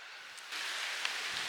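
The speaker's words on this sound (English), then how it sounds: "And it's raining." Steady rain falling outdoors, a soft continuous hiss with faint scattered drops, no voices.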